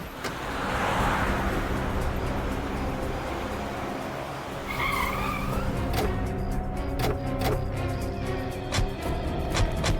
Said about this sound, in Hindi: जरा गाड़ी रोको